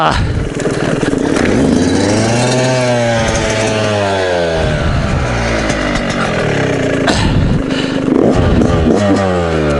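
A Yamaha YZ125X two-stroke dirt bike engine revs in second gear on an off-road trail, its pitch climbing and falling in repeated sweeps at close range. A rider talks over the engine throughout.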